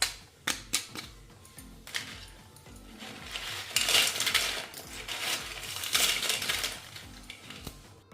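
Crisp raw papad made from leftover wheat dough, sun-dried until brittle, crackles and snaps close up in a quick, irregular series of sharp cracks with brief pauses between bursts.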